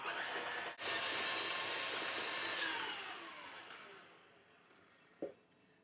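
An electric mixer beats soft butter on high speed, a loud whirring grind that runs steadily and then fades as it slows toward the end, with a short knock near the close.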